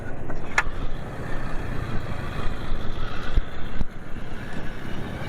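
A Vrooam VR50 scooter engine running on Mobil 1 oil drones steadily and close, with a rough, buzzy texture throughout and a couple of brief clicks, no voices present.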